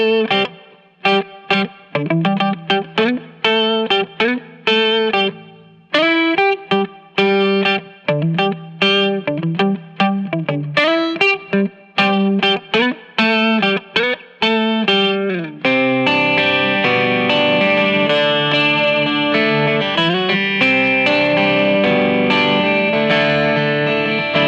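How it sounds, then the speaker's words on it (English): A Squier Paranormal Jazzmaster 12-string electric guitar plays chiming, shimmering chords and riffs through effects, first choppy and staccato, then sustained washes of distorted, chorused sound. "check out some sounds from this Squier Paranormal Jazzmaster 12 here"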